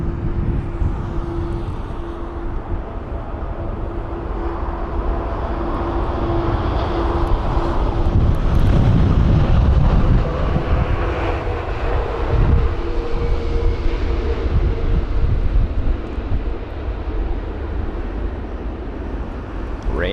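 A Boeing 787 airliner lands at London Heathrow in gusty wind, a sustained low jet engine roar and rushing wind noise that swells toward the middle and fades slowly, heard from the ground at moderate distance.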